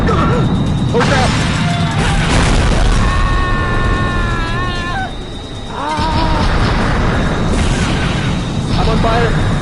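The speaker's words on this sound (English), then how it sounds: "More explosions!" Loud explosions boom in the giant-monster video game City Shrouded In Shadow, with repeated bursts and crashes mixed with game music and a voice shouting over them.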